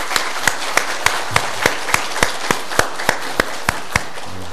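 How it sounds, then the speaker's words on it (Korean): A church congregation claps together on Christmas Day in a steady, evenly spaced rhythm, each sharp clap clear and fairly loud, with no talking. "예수 그리스도 앞에 영광의 박수를 한번 올려드리겠습니다."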